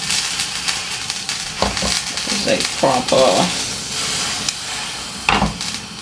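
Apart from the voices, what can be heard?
pot boiling over while cooking ackee and saltfish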